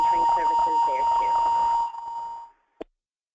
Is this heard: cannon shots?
no